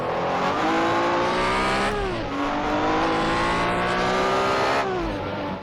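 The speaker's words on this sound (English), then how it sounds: "I suppose it is the Porsche is quite a loud, screamy engine." A loud, screaming Porsche race car engine in a 1964 World Sportscar Championship racing game at the Targa Florio, revving high and steady with two sharp downshifts, close and constant.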